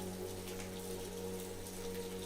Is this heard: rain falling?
yes